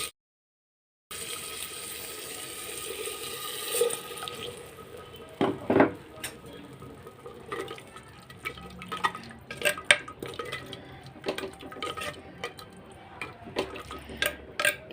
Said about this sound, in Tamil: இப்போ இதுக்குள்ளே கொஞ்சம் தண்ணி ஊற்றி அதையும் ஊற்றிடலாம்